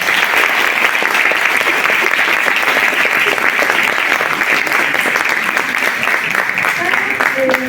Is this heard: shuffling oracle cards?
no